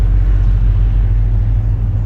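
A 1983 VW Mk1 Grumman Kubvan drives down a street, its engine giving a steady, loud low rumble throughout with no talking.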